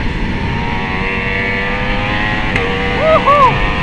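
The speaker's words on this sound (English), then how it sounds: "Listen to that thing go. 2 quick downshifts" A Ducati Streetfighter V4 S motorcycle engine drones steadily at speed, then its auto blipper fires two quick downshifts near the end, each a sharp rising and falling rev. Loud and close throughout.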